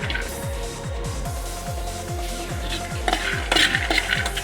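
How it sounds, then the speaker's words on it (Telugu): Peanuts stirred and fried in a pan for chutney, with a steady sizzle under repeated scraping strokes of a spoon against the pan at a regular rhythm, close and moderately loud, with a few sharper clinks near the end. "ఇది దోరగా ఫ్రై అయ్యే వరకు ఫ్రై చేసుకోవాలి."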